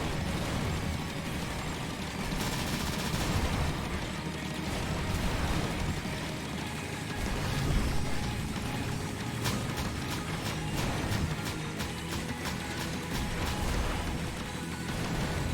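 Hyper Shotgun blasts in the side-scrolling space shooter Steredenn, a dense, continuous wash of rapid bursts and impacts over steady game noise, with a faster run of crackling shots later on.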